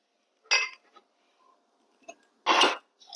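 Dry cake ingredients for a pumpkin spiced cake with apples are stirred in a bowl, with a few sharp clinks and scrapes of a utensil against the dish in a quiet kitchen.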